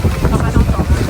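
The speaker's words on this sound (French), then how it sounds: "Il y a trop de vent de ce côté-là." Strong coastal wind on Tenerife gusts hard against the microphone, a loud low rumbling buffet filling the short moment, close and unsteady.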